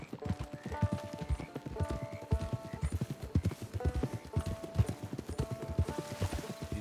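Horse hooves clip-clop in Red Dead Redemption 2 Online, a steady close trotting rhythm of sharp repeated hits that continues throughout, with faint tonal game sounds underneath and no talking.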